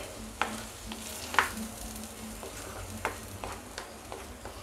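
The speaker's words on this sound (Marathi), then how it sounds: "आता आपल्याला चांगला भाजून घ्यायचं आहे। जेव्हा आपण याचं तेल सुटत नाही तेव्हापर्यंत आपण याला भाजून घेऊया।" Masala roasting in oil for an Afghani egg curry, a steady close sizzle broken by sharp scraping clicks of a spoon stirring against the pan.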